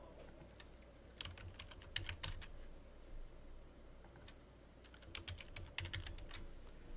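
Keys clatter on a computer keyboard in short bursts of quick clicks separated by pauses, faint and close over a quiet room hum.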